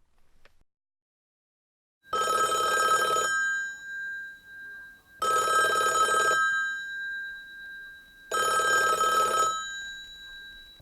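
Old-style telephone bell ringing in three long, loud bursts separated by pauses, in a Korean radio drama set in Manchuria; no voices.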